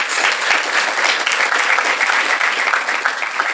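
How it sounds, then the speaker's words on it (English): Students at a national pinning ceremony applaud themselves, a dense, steady round of clapping from a large crowd that fills the room without pause. "Give yourselves a round of applause, please"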